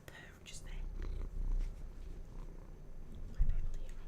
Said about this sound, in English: Can you hear her purring?